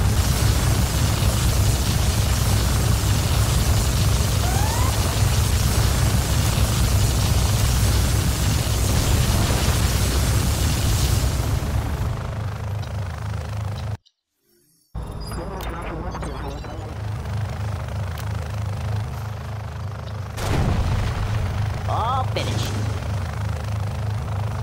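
The particle cannon fires in the video game C&C Generals, a loud sustained roaring blast with a brief silent gap partway through, then continued rumbling.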